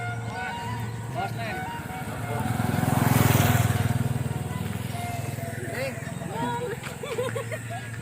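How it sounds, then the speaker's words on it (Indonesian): A motorbike engine in the Majalengka countryside swells to a loud rumble and then fades, as if passing close by, while people chatter over it. "Ini motornya."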